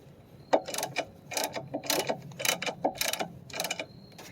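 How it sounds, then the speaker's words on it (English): Scissor jack being lowered from under a Tesla Model Y, a close run of rhythmic metallic ratcheting and clicking bursts repeating steadily for several seconds with no voices. "So now I'm gonna fully take off the jack now."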